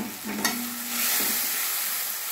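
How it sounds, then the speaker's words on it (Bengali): Ground spice powder mixed with water hits a hot pan for a mustard-spiced puti fish curry with tomato, giving a steady broadband sizzle and a brief stirring clatter near the start, close and continuous. "এবারে গুঁড়ো মশলাটা যেটা জল দিয়ে বানিয়ে নিয়েছিলাম সেটা দিয়ে দিলাম।"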